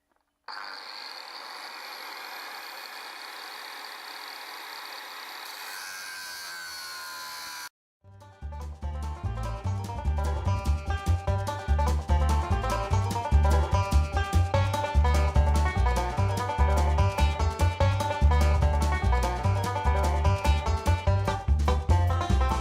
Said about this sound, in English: let's get the big angle grinder and just cut that off